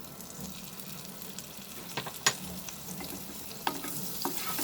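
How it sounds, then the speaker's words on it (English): Butter melting and sizzling in a heated pan before onion and capsicum go in, a low steady fizz punctuated by several brief crackles and a clink or two, fairly quiet. "I have heated the pan and I am going to add the butter."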